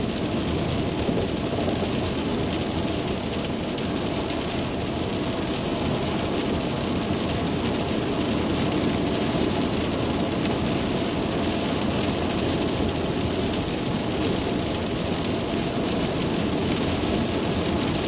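Torrential rain in a storm with flash flood warnings roars as a constant, loud, even wash of noise, unchanging from start to finish with no voices.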